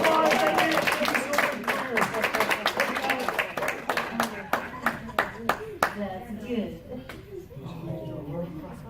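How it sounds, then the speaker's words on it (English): An audience at a magic show applauds with dense, lively clapping that thins into scattered claps after about six seconds, while a voice talks over it. "Give them a big round of applause."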